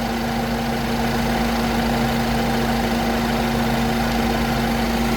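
A Mini Cooper engine idles steadily and loudly throughout, a continuous close hum with a strong low drone and faint knocking texture, no voices over it.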